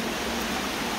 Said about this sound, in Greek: πέφτουν τα νερά, όλα τα νερά που έρχονται από το ρέμα Σαπφούς